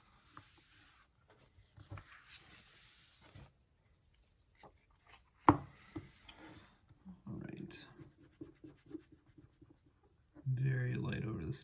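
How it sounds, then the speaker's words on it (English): Pages of a Giant-Size X-Men #1 comic book crinkle softly while being pressed by hand near the staples, coming in quiet, intermittent rustling bursts with long near-silent gaps between them. "You can hear the crinkle"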